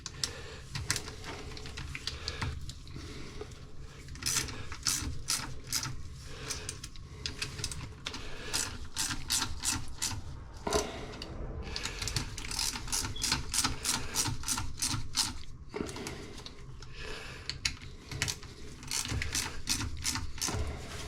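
A wrench tightens toilet flange bolts in rapid, even ratcheting clicks, coming in steady bursts with short pauses between them, close and fairly quiet.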